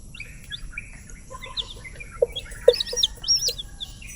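Darag chicks chirping close by, a scatter of thin high peeps that grow busier and louder toward the end over quiet background noise.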